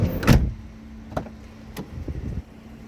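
Power windows on a 2011 Dodge Grand Caravan, heard as a short electric motor whir with a clunk at the start and light mechanical clicks, close and fairly quiet inside the cabin.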